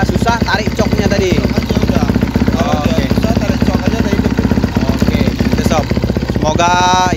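A 2023 Kawasaki KX250X dirt bike engine running after being started with the starter button, a steady loud mid-pitched rumble throughout, with people talking over it.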